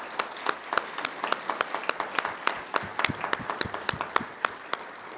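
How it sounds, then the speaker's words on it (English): Crowd at an outdoor Veterans Day ceremony applauding its veterans: scattered, moderately loud hand clapping with sharp individual claps standing out, continuous throughout with no speech over it. "Would you please join me in a big applause?"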